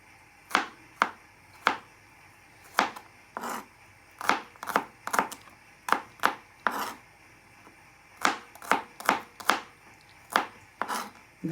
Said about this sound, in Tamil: இந்த வெங்காயத்தை சின்ன சின்ன துண்டாமல் வெட்டணும்